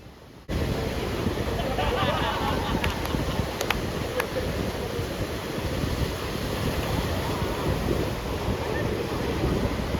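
Wind buffets the microphone as waves roll onto a beach at Pondicherry, a dense, steady roar that starts abruptly and continues loud throughout.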